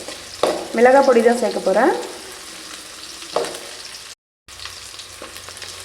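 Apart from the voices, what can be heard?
mustard seeds spluttering in hot oil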